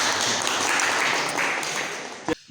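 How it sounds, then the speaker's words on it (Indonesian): An audience at a coaching training session at a Muhammadiyah school in Sumowono applauds, a steady dense wash of clapping that fades slightly before ending abruptly. "Tepuk tangan."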